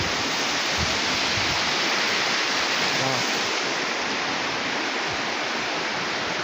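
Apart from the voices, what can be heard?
roaring creek, Mission Creek Regional Park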